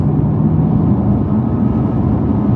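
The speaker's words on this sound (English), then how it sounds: "Exhaust is still quiet, innit? Yeah. You've got more tyre noise than you have out else." Steady broadband road rumble from tyres rolling on tarmac, heard from inside a moving Lexus LS400 with a quiet exhaust, continuous and fairly loud with no talking.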